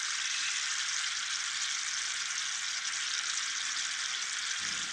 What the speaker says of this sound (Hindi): यहाँ पे देखें बाकी जलेबियाँ भी साथ साथ फ्राई हो रही हैं।